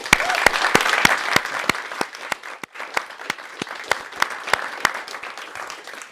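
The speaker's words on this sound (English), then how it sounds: "round of applause for fielding those" An audience at a hybrid event gives a round of applause, a close burst of sharp individual claps over a softer wash of wider clapping, lasting several seconds.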